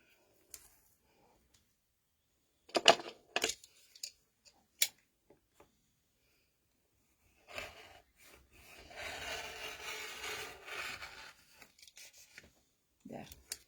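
A rotary cutter slices a strip of quilt fabric on a cutting board at a 45-degree angle, making a soft, close scraping rub. A few faint clicks and taps come before it in a quiet room.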